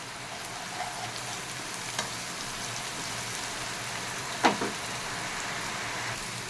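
Chopped onions frying in a pan alongside jackfruit seeds, a soft, even hiss like light rain running throughout, with a couple of brief scraping clicks near the end, close by and free of talk.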